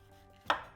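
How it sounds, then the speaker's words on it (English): A knife chops once through a green pepper on a cutting board, a single sharp close thud against a quiet background. "with the green pepper, we're just going to take"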